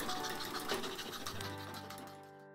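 A restored Empire scroll saw running in a workshop, its motor and blade giving a steady, faint mechanical whir that winds down toward the end.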